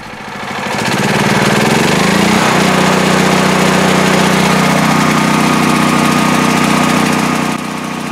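Pulsar 12kW generator converted to run on natural gas starts up and settles into a loud, steady engine drone, its pitch shifting slightly as it runs, close by with no talk.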